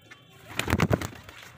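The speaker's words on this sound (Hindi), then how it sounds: "उड़ा के दिखाता हूँ कबूतर उड़ा रहा हूँ" A released pigeon takes off with a short, close burst of quick wing flaps lasting under a second, with quiet surroundings before and after.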